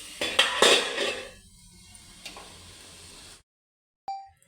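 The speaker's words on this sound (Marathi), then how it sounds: "आता ह्याच्यावर मी झाकण ठेवते" A metal lid is set onto a small iron pan, giving a couple of sharp clanks followed by a ringing rattle that fades, then a lone faint clink after a brief silence.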